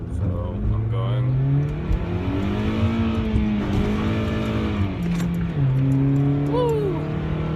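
A car accelerates hard with its tires slipping, the engine note climbing and dropping through gears while tires squeal briefly; a person talks over the loud, close engine.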